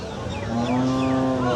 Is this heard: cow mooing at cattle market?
yes